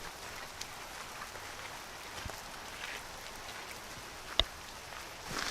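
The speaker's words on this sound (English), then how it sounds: "This is like rain with showers." Steady light rain falls through a redwood forest, a soft even hiss with a few sharper drop taps, fairly quiet and with no voices.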